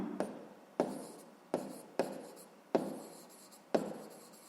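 A pen writes out a fifth-grade math solution on paper, with six distinct tapping strokes and short scratching trails, close and quiet with no talking.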